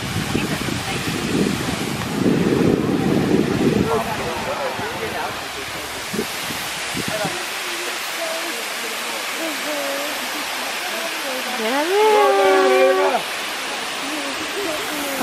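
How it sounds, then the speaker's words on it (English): A big waterfall roars as a steady broadband rush, loud and continuous, with wind buffeting the microphone at the start and people talking over it. "Your first time at a big waterfall."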